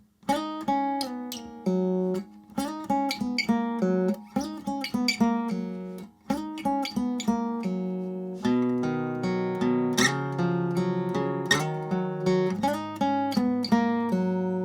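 An electric guitar plays a quick riff of picked notes, some sliding between pitches, with a clean, bright tone and steady rhythm, no voices.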